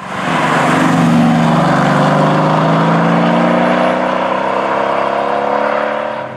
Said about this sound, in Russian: А вот так он звучит не на холостых.